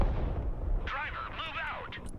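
HIMARS rocket artillery striking a supply dump in the Broken Arrow video game, a rumbling burst of impacts with a voice talking over it partway through.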